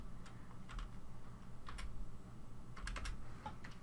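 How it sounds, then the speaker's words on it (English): Quiet keystrokes on a computer keyboard in short irregular clusters of clicks, close but faint over a low background hum, with no talking. "I'm going to type in just a few things here."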